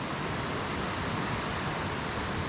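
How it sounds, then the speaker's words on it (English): Creek running high after days of heavy rainfall at an evening tent campsite, a steady broadband rush of flowing water, close and constant with no pauses. "That lovely relaxing water flow sound"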